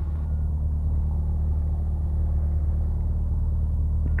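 Cabin of a TB10 light aircraft taxiing, a loud steady engine drone and rumble filling the space, with a faint jolt near the end as the wheels pass over a drainage gutter.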